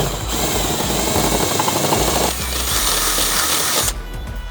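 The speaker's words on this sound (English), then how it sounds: "So we're gonna drill this one out first." A drill bores a 1/4 inch hole in the front bumper of a 2020-2024 Chevrolet Corvette C8, a loud continuous whir close by that shifts in tone partway through and eases off near the end.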